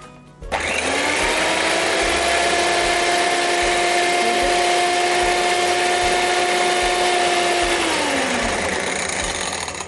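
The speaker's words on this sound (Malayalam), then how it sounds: "മുട്ട ബീറ്റ് ചെയ്യാൻ പോവാണ്" An electric beater whips eggs with sugar for a cake, its motor starting abruptly and whirring loud and steady close by with a constant whine, then slowing slightly near the end.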